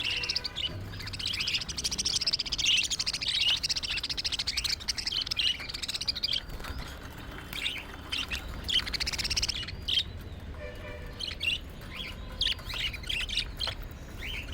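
Pet budgerigars chirp and chatter continuously at close range, a busy layering of bright tweets and short squawks with no talking.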